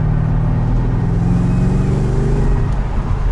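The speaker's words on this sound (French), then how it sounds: "l'échappement est de moins en moins sonore, il fait quand même un bruit assez impressionnant, très bestial" Deep, loud exhaust roar of a BMW M8 Competition Cabrio, a sustained throaty rumble with slight rises in revs, close and with no voices over it.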